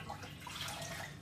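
Warm water pours steadily into a bowl for bread dough, giving a continuous soft splashing trickle close by with no talk.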